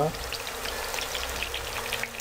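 Potato chips fry in hot oil with a busy, crackling sizzle and scattered small pops, close and steady for the whole stretch after a brief sound at the start.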